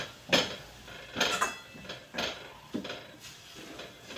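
A spoon scrapes and clinks in a bowl while besan is mixed into chopped flowers, with several short, separate stirring strokes that sound close and fairly quiet, with no talking.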